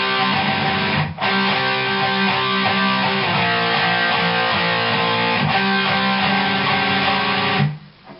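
Sustained, fairly loud electric guitar power chords, with a couple of quick chord changes before the final chord is cut off near the end, played alone without talk.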